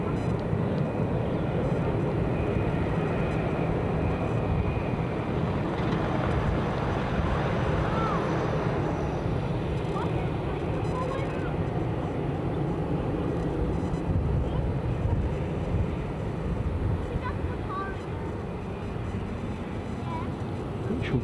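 A Ryanair Boeing 737 from Cork arrives at Edinburgh Airport with a continuous, rumbling jet roar, heavy in the low end and fairly loud, easing slightly near the end, with wind buffeting the microphone.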